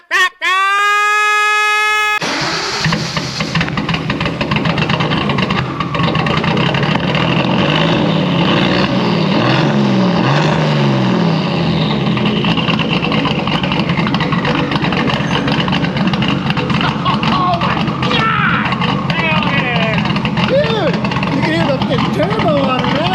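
A 1973 Datsun 240Z engine runs loud and steady for over twenty seconds in a workshop, with a low rumble throughout and a brief rev rise near the middle, preceded by a short burst of sung or tonal voice at the start.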